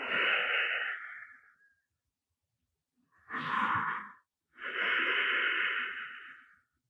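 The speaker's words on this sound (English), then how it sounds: "And just breathing here." Slow breathing through the nose during a postpartum yoga pose, three long airy breaths, close and clear, with short silent pauses between them.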